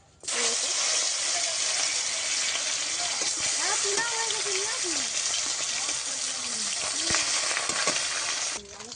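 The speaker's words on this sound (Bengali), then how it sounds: "মাছ ভাজা হয়ে গেছে এখন তুলে নেবো" Koi fish sizzles loudly in a pan of hot oil for home-style curry, a dense continuous frying hiss with crackles, while someone speaks briefly over it.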